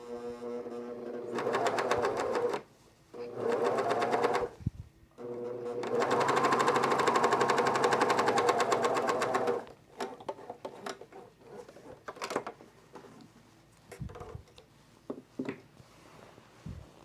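A sewing machine stitches a curve along a pants placket in three bursts, two short runs and then a longer steady one. The motor whirs close and loud, with quiet pauses and small handling clicks between runs.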